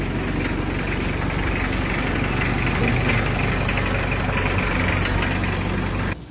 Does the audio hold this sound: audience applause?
no